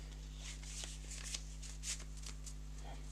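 A deck of about twenty game cards is riffled and shuffled during a tabletop board game session, giving quiet, soft papery flutters and light taps in short bursts over a steady low hum.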